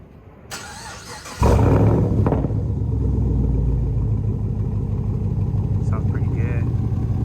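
A 2015 Chevrolet Camaro SS V8 with a straight-piped exhaust, resonators and mufflers deleted, fires up with a loud bark and settles into a deep, lumpy, steady idle close by.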